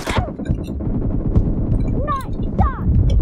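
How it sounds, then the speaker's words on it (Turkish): Rocket explosion and gunfire in PUBG Mobile, with a sharp blast at the start followed by rapid bursts of shots and whistling effects, loud and close amid chaotic game sounds. "Ayağın altına roket attım adam ölmedi ya"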